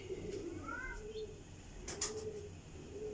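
Sialkoti Teddy flying pigeons coo softly in a low, rolling call, quiet and somewhat distant, with a brief sharp rustle partway through.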